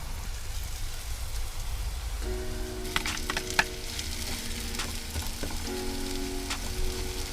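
Vegetables with teriyaki sauce sizzle in a pan at a campervan campsite, a steady loud frying hiss with sharp crackles and popping bursts midway, no talking.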